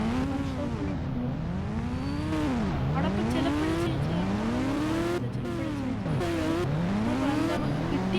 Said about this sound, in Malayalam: അപ്പം നമുക്കിനി സ്കൂട്ടി കയറാം ഗൈസ്.